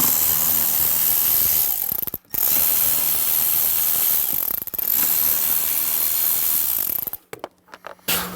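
A ratchet rapidly clicks as screws are removed from under the glove box of a 2018-up Jeep Wrangler JL, with dense, continuous ratcheting broken by a few short pauses, close and fairly loud.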